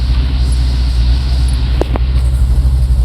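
A 1972 Pontiac LeMans pro-touring car idles with a loud, steady low engine rumble, close by, with one or two brief faint clicks partway through and no talking.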